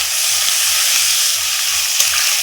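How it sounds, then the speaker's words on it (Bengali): Water poured onto sizzling mustard masala in a pan, giving a loud, steady hiss and sizzle that holds throughout with low rhythmic bubbling underneath. "মশলাটা ভালো করে কষানো হয়ে গেছে এখন আমি দিয়ে দেবো জল"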